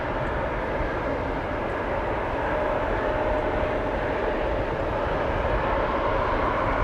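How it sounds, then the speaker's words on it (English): An Air France Bombardier C-Series 300 (A220) at Amsterdam Schiphol Airport produces a steady, even jet roar, heard alone and moderately loud throughout. "a Bombardier C-Series 300 aka A220 from Air France coming this way to go to Paris"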